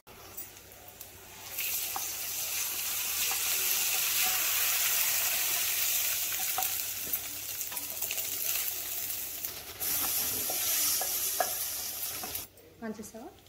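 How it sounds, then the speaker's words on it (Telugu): Spiced tempering being stirred into cooked rice for a tamarind pulihora, with scraping, mixing and faint sizzling that swell after a quiet start and carry on steadily and close for about ten seconds before fading. "ఇప్పుడు మనం ఈ పోపుని అన్నంలో కలిపేసుకోవడమే."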